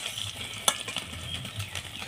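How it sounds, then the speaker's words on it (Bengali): An egg fries in hot oil in a pan with a soft, steady sizzle and occasional small pops. One brief utensil clink is also heard. The sound is faint and close, with no voices. "দেখতেই পাচ্ছিলাম ডিমটাকে সুন্দরভাবে ভেজে নিয়েছি।"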